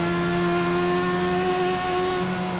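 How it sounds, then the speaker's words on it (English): A Legends race car at the Charlotte road course in a sim racing game drones with a steady, buzzing engine tone, pitch holding nearly level as the driver eases on and off the throttle, loud and continuous. "You hear him very steady, kind of on and off the gas here through turns 1 and 2."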